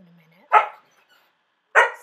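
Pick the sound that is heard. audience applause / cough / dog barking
dog barking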